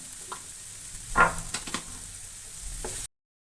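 Boneless chicken filling is sautéed in oil in a pan for chicken pola, a soft steady sizzle broken by a few sharp spoon scrapes and stirs, with no talking.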